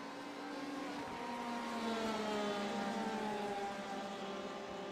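A Porsche race car engine in a sim racing game whines past, rising and sweeping in pitch as it revs and shifts at moderate, fairly distant loudness.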